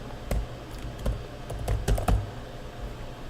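Typing on a computer keyboard during office software data entry: soft, irregular key clicks in short clusters, fairly quiet and close, with no voices.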